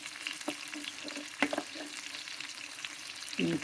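Oil sizzling in a pan while making tomato pickle, a steady soft frying hiss with occasional spoon clinks and scrapes, close and fairly quiet, no talking.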